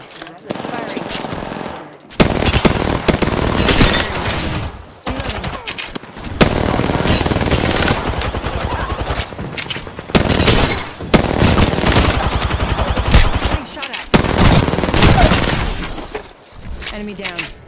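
Heavy automatic gunfire in Apex Legends, with long, loud bursts of rapid shots broken by brief pauses, some crackling impacts mixed in and game voice callouts layered over the shooting.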